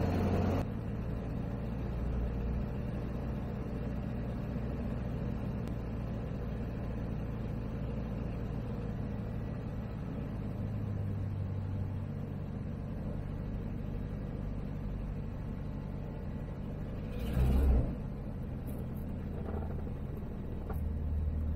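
A Zenith 701 light aircraft's engine drones low and steady through a soft-field takeoff in the circuit, fairly quiet and unbroken, with one brief louder bump partway through.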